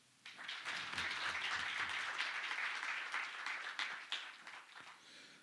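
Audience at a regional health meeting clapping to welcome a health minister and a chair, a dense, steady burst of applause that swells quickly and holds, then thins out toward the end.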